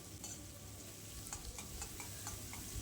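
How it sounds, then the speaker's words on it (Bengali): Bitter gourd pieces fry in oil with turmeric, a soft, steady sizzle broken by light, regular scrapes of a spatula stirring the pan, quiet and close. "হলুদ দিয়ে উচ্ছেটাকে বেশ এইভাবে নাড়াচাড়া করতে করতে লালচে কালার করে ভেজে নেব"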